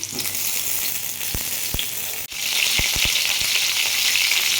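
Cauliflower pieces drop into hot oil already frying potatoes, and the sizzle swells to a loud, bright, continuous crackle, with a few sharp knocks of a utensil against the pan.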